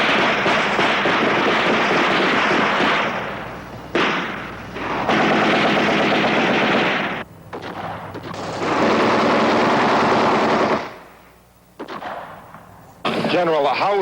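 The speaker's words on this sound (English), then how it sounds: "That's EOD setting off a couple of M79 duds" Explosive detonations as EOD sets off dud M79 grenades at the US Embassy compound in Saigon, Vietnam, 1968: loud repeated blasts and bursts, with stretches of rough, sustained noise between a few brief lulls.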